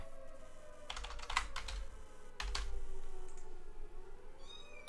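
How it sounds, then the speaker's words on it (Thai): Cat meows played from an Android phone app, two short loud meow bursts a second apart amid background computer keyboard typing, with a faint higher chirp near the end. "ผมเอาเสียงแมวไปทับได้ไหม"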